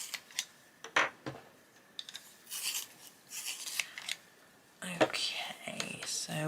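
Colored pencils are sharpened in short, quiet bursts of scraping and rasping with small gaps between them, close by, with a soft voice faintly present at moments.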